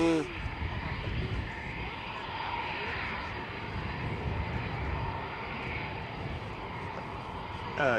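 Typhoon fighter jets on training sorties over RAF Coningsby in Lincolnshire produce a broad, steady roar that rises and falls gently, loud and continuous throughout.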